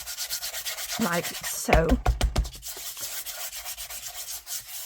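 A small cornflour-filled embossing powder pouch rubbed back and forth over card in quick, close, soft brushing strokes, with a short spoken phrase partway through.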